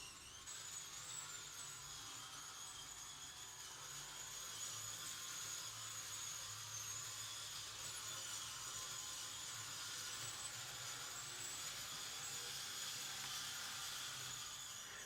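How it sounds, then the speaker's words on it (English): Märklin 2660 model train running with worn coach axles, giving a steady high-pitched whirring and hissing grind that holds evenly throughout, with no voices. "And we have even more noise. It looks like the coach axles all need some attention."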